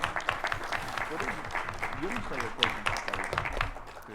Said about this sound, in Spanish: les pediré un fuerte aplauso